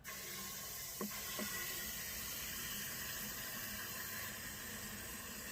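Water pours steadily into a 4-gallon weed sprayer tank, a continuous broadband hiss and rush that stays even throughout, with a couple of faint knocks near the start and no speech.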